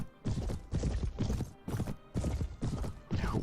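Horse hooves clip-clopping in the video game Mount & Blade Warband, a quick, regular series of loud, close hoofbeats in bursts of two or three, with no talk.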